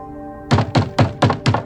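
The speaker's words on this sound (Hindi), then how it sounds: "रिया दरवाजा खोलो ना।" Five firm knocks on a door sound close and loud in an even rhythm, each one a hollow wooden thunk. A faint steady hum sits underneath.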